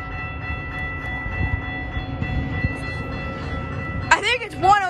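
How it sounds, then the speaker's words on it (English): Metra commuter train led by an F40PHM-3 locomotive at Deerfield station, a steady low diesel rumble and rail noise throughout, with crossing bells ringing and a sharp horn-like blast near the end; a voice talks over it. "the bells just started ringing because we clearly have a train right there"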